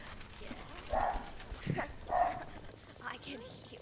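A dog barks in a backyard, a few distant, muffled barks spaced irregularly, faint behind a nearby voice talking.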